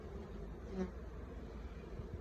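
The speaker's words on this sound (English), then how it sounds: "There we are, positioned over the hole so we can see the bees" Honey bees at a Flow Hive being filled in spring, humming softly and steadily in a faint, continuous drone with a brief closer buzz midway.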